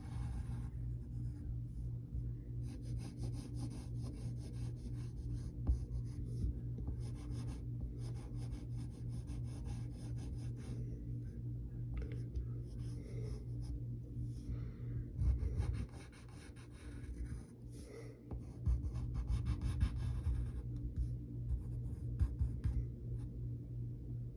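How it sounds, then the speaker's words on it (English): Pencil sketching on paper while drawing a cartoon character, a continuous soft scratching and rubbing under a low background rumble, quiet and close. "And then we'll draw another arm going in a different way."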